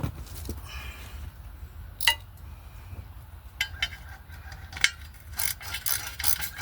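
A ratchet wrench turns an engine over by the harmonic balancer bolt, giving quiet, repeated bursts of clicking pawl ratcheting at close range against a low background hum.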